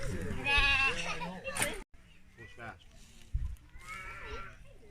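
Sheep bleat in a farm pen on a snowy weekend, a couple of wavering calls close by, mixed with people talking and scattered rustling.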